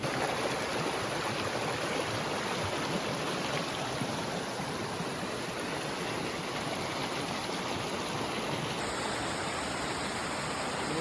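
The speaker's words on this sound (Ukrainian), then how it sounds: "маленький такий водоспад." A small waterfall in the Carpathian mountains rushes steadily, a constant broadband roar of falling water with no voices, close and even throughout.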